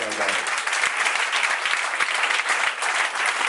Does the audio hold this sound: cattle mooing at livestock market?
no